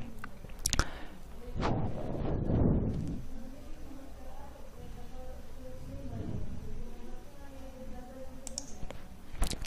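A computer mouse clicks on a link while an online form is filled in, giving a few sharp, close clicks at the start and the end, with a voice talking in between.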